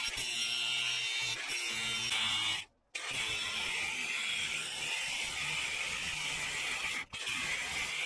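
Steel is being cut into a small C-shaped piece for a rock slider repair, a steady grinding, sawing whine heard fairly faintly, with two brief pauses where the cut stops.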